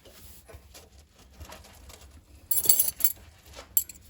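Small metal bolts clink faintly while being started by hand on the pilot light assembly of a gas fireplace, with a brighter cluster of metallic taps and a final sharp clink near the end.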